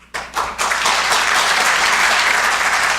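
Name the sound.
audience applause at awards ceremony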